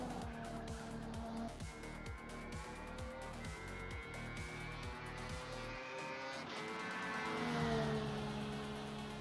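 Mercedes AMG engine in a sim racing video game, revving hard through repeated upshifts with a rising, gear-stepping whine, then a steadier high drone as the car carries speed; loud and continuous, no talk.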